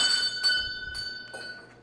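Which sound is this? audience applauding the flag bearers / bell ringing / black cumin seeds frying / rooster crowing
bell ringing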